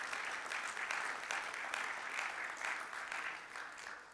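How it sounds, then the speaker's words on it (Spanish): A church congregation claps in praise to the Lord, a steady, fairly distant wash of applause holding throughout without voices. "Dale el aplauso de alabanza al Señor"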